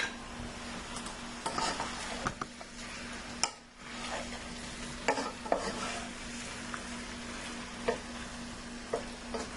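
Onion and other food fry in a pan while being stirred, a quiet steady sizzle under repeated scraping and clinking of a utensil against the pan.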